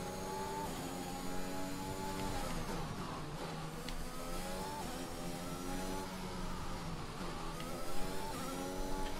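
A Formula 1 car engine in the F1 2021 video game, the car running with a damaged front wing on the Saudi Arabian GP street circuit, drones loud and steady with rising and falling gear-shift harmonics, close and continuous with no talk.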